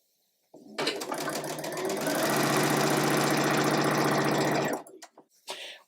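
A sewing machine runs in one continuous burst of about four seconds, stitching fabric pieces for a sampler quilt block, loud and close with a fast mechanical whir, then stops with a few faint clicks.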